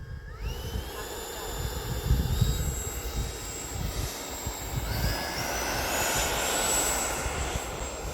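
An E-Flite 80mm F-16 Thunderbird RC electric ducted-fan jet takes off, its fan whine rising steadily in pitch and loudness over several seconds, with wind rumble buffeting the nearby microphone outdoors.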